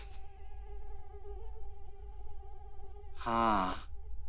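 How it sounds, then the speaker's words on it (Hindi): A mosquito's steady high-pitched whine drones on close by for several seconds, faint but unbroken, before a brief sighing vocal sound interrupts near the end. "मच्छर।"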